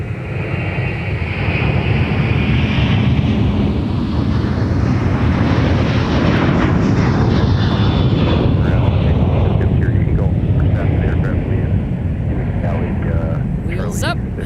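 A jet airliner taking off at Minneapolis–St. Paul airport in the evening, a loud sustained engine roar that swells and then slowly fades into the distance, heard alone and close.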